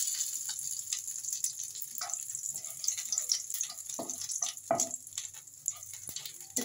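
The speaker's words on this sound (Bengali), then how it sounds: "এবার জিরে ফোড়ন দিলাম, আর শুকনো লঙ্কা দিলাম" Cumin seeds and dry red chili frying in hot oil, a continuous quiet sizzle with scattered pops and crackles and a few stirring knocks.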